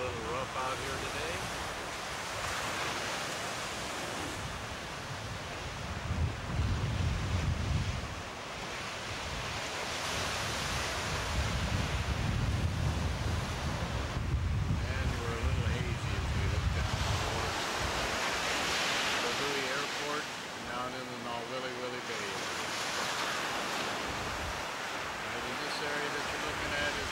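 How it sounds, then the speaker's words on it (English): Ocean surf crashing on a beach on a rough day, recorded on 1992 VHS home video: steady, loud roar of breaking waves swelling and receding, heavy wind buffeting the microphone, with people talking underneath. "we can pick up the surf crashing gently upon the beach"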